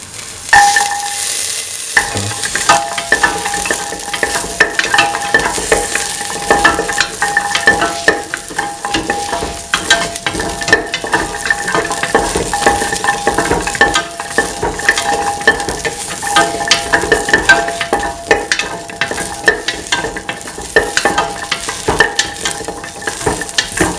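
Garlic sizzles in a hot pan while a utensil stirs and scrapes it, crackling frying noise with repeated clinks and scrapes, loud and close, continuing steadily without talk.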